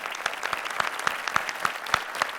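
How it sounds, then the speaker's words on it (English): A conference audience applauds steadily throughout, a dense patter of many hands clapping at close-to-moderate distance with no voices over it. "we want to give you a round of applause."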